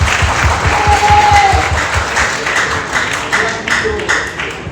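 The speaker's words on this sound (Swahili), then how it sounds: "Hebu tupige makofi kushangilia hiyo." A crowd at a football club gathering breaks into loud sustained applause, dense clapping holding steady for several seconds and easing slightly toward the end.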